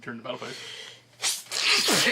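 A single sharp sneeze bursts out during a live tabletop Yu-Gi-Oh card duel, followed closely by people talking.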